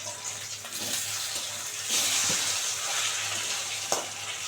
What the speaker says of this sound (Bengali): আরও 2 পিস ভেজে নেব